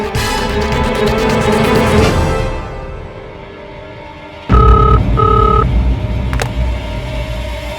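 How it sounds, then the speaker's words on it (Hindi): A loud engine-like rumble fades, then a few short electronic phone tones beep in a quick pattern, followed by a brief click. "घर पे करता हूँ फोन।"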